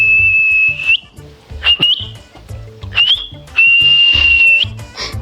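A person whistles in several sharp, high bursts of differing length, including one long sustained note, ringing loud over a rhythmic background music beat.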